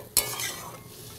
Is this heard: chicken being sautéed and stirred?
yes